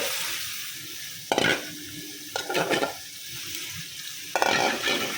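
Potatoes and snakehead fish go into frying spice paste, bringing a close, hissing sizzle that flares in several sharp bursts as pieces drop in and are stirred.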